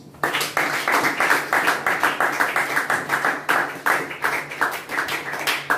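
A congregation claps in steady, rhythmic unison during worship, sustained and fairly close over a faint murmur, with the beat continuing throughout.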